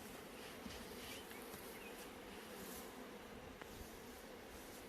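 Honey bees buzz in an opened hive as a honey super is added, a dense and steady hum of many insects that is fairly quiet and close, with no talking.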